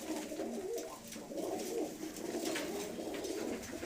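Pigeons kept by a pigeon-racing fancier coo softly and continuously nearby, a layered murmur of calls over a steady background hum.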